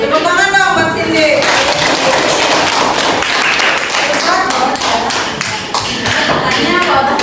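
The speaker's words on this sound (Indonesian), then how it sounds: "Tepuk tangan dong buat Cindy." An audience claps for a girl named Cindy, giving steady, close, dense applause that lasts several seconds after a voice speaks briefly at the start.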